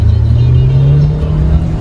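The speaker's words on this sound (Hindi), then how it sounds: "गाड़ी को हमने दे दी है स्पोर्ट्स मोड पे और दबाते हैं इसका एक्सेलरेटर।" A 2021 Hyundai Creta SX (O) SUV accelerates in sports mode, its engine giving a loud, steady low drone that climbs slightly in pitch throughout.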